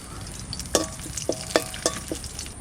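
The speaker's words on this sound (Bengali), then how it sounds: "এবার ফোড়ন দেব, তেল দিচ্ছি। তেজপাতা, শুকনো লঙ্কা," Bay leaf and dried chilli hit hot oil for a tempering, setting off a lively close sizzle broken by several sharp crackles and spatters, with no voices.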